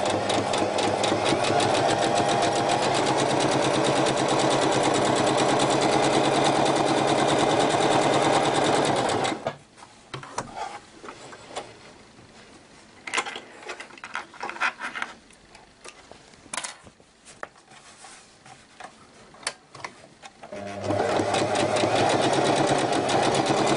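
A sewing machine running zigzag stitches along the top edge of a homemade fabric fruit bag, its steady mechanical whirr loud and continuous for about nine seconds, then stopping into quiet handling clicks before the stitching resumes near the end.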